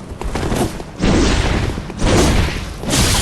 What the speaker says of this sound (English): Ah, this one's got a cannon.